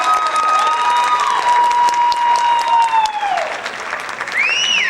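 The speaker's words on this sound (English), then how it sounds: "Please give Maya another round of applause for her bassoon solo." Audience at a high school winter band concert applauding after a bassoon solo: loud, dense, sustained clapping filling the hall, with a few whistles and cheers rising above it.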